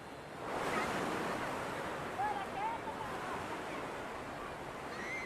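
Surf rolls onto an Algerian beach in a steady, broad wash with wind buffeting the microphone and faint distant cries over it.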